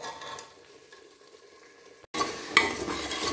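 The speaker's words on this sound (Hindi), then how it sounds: "अब मैं टमाटर और प्याज दोनों को इकट्ठे पकाऊंगी।" Tomatoes and onions cooking together in ghee, a faint soft sizzle that cuts out briefly, then returns louder with a stirring scrape, close by with no voices.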